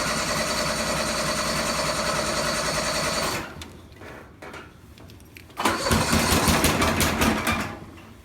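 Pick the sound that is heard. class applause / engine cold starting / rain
engine cold starting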